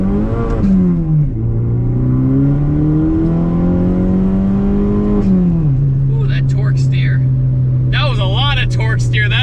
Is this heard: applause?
no